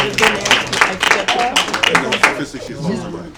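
An audience at a poetry reading claps in a short burst of applause that fades out after a couple of seconds, loud and close.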